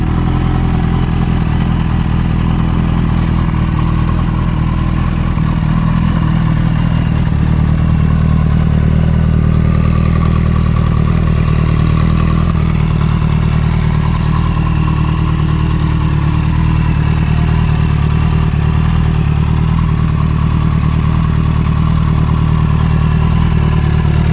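Kawasaki Ninja H2 supercharged motorcycle engine running steadily through a new aftermarket exhaust fitted with its baffle, a continuous deep mid-pitched drone with a whirring edge, loud and close with no speech throughout.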